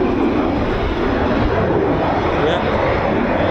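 Rolls-Royce jet engine of a military aircraft arriving at RAF Fairford for an air show, spooling up into a loud, steady broadband roar that fills the clip without break.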